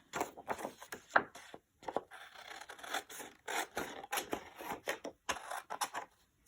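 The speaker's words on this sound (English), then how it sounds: "Let me cut out the light blue parts." Scissors snip light blue paper pieces for a mini glue book, producing rapid, close, repeated crisp cuts and rustling paper in short bursts with brief pauses.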